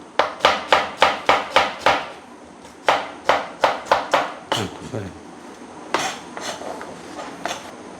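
Knife chopping on a board in a home kitchen, a fast even run of sharp knocks that pauses, resumes in a second quick burst, then slows to a few scattered strokes.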